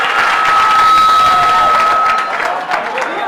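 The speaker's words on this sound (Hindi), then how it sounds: "बार जोरदार ताली दिया जाएगा।" Loud applause from a crowd at a gathering for newly selected Bihar police sub-inspector recruits, dense clapping sustained throughout with a few voices mixed in.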